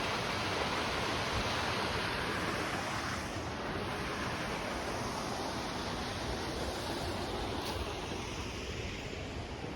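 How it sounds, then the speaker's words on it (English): Steady broadband rush of a waterfall and flowing water at George W. Childs Park, a continuous outdoor wash with light wind, no voices. "you see the falls off to the right, and all the beautiful water"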